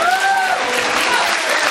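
Wrestling crowd cheering and clapping for Julius Fantana, a dense, steady roar of applause and voices filling the whole moment, with a brief whistle-like tone early on.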